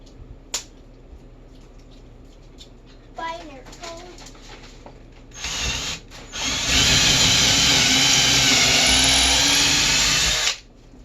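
A power drill whirs loudly for several seconds, boring into a wall after a short burst and some quiet talk and shuffling beforehand.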